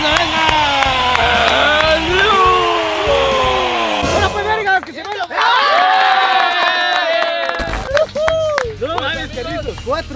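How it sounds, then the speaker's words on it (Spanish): A crowd at a beer pong challenge cheers and shouts for the champion, loud overlapping voices and whoops with bursts of excited yelling, briefly dipping before swelling again. "vamos a dar un aplauso a quien va acumulando 4 títulos y doble campeón del canal"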